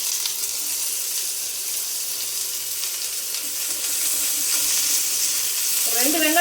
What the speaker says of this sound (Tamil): இப்போ நான் அதில் வந்து வெங்காயம் கொஞ்சம் போட்டுக்கிறேன்.